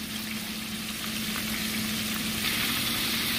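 Steady, dense sizzle of whiting fish and shrimp frying in hot oil, continuous and fairly loud with a low bubbling hum underneath.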